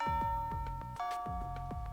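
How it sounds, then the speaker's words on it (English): A school bell chime in the video game Fate Extra marks the end of classes, ringing a clear melodic ding-dong sequence of sustained, ringing tones that rise and fall evenly over a soft, steady background. "with that bell signaling the end of classes sounds"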